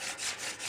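A wooden hand drill spindle grinds against a wooden fireboard to make friction fire, giving a close, steady rasping rub that swells and fades in about three strokes, with no voices.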